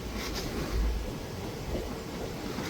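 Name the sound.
Nagercoil–Chennai weekly train with diesel engine entering Madurai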